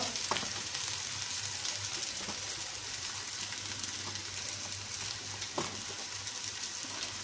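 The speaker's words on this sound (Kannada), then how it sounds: "ಚೆನ್ನಾಗೆ ಹಿಂಗೆ ತುಪ್ಪದಲ್ಲಿ ಫ್ರೈ ಮಾಡ್ಕೋಬೇಕು" Rice frying in ghee for basmati rice payasa, a continuous soft crackling sizzle with occasional light stirring scrapes, close and fairly quiet, with no voices.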